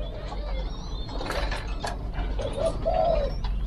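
Spotted doves coo in breeding cages, a few soft rising coos near the end over steady low background hum and faint chirps.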